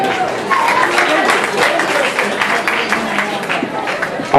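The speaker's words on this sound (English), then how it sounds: "Seamus Walsh, give him a big round of applause." Audience applauding at a traditional music band competition in Mullahoran, a steady wash of clapping from a crowd with some chatter and voices mixed in throughout.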